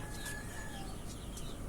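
A young local-breed rooster of about 734 grams, kept on a farm, gives a few faint, brief clucks over a steady background hiss.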